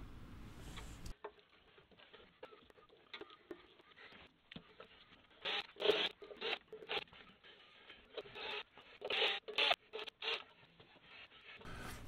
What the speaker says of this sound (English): this will take a second to get those eight screws out with a regular Phillips screwdriver